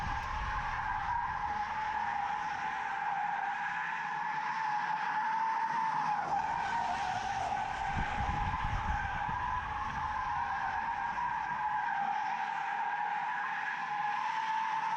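Tires squeal continuously as a Tesla Model 3 drifts with stability and traction control switched off, a loud sustained screech with shifting pitch and low road rumble underneath, steady for the whole stretch with no talking.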